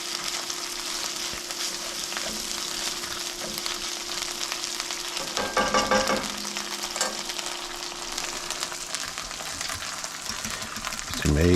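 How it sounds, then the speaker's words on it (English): Chorizo fries in a pan with a steady broadband sizzle, a utensil stirring and scraping through it in a brief louder burst midway, otherwise no voices. "Now this is going to cook for probably 4 or 5 minutes. Kind of give it a little bit of a stir"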